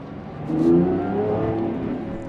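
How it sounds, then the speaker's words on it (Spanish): A powerful naturally aspirated Lamborghini V12 engine revs up with a rising, smooth howl, holding a high, sustained note before easing slightly. It is close and loud. "mantienen su V12 atmosférico, un sonido embriagador y una personalidad muy bien definida"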